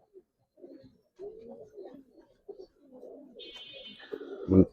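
Giribaz coloring pigeons coo softly and close by in short, irregular bursts, with a sharper flutter or call near the end.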